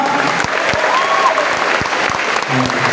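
Clapping from a seminar audience, a continuous crackling wash of many hands with a few sharper individual claps standing out and faint voices murmuring beneath.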